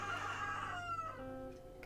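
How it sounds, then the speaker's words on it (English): A rooster crows near a front door, one drawn-out cock-a-doodle-doo heard close and fairly loud, with no talking over it. "there's the rooster for all of you that love him."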